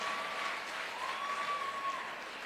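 Applause rises from a large audience at the Jashn-e-Etawah 3 event, a faint, distant, continuous wash of clapping with a thin tone running across it.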